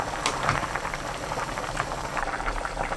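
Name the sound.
Korean seaweed soup boiling in a pot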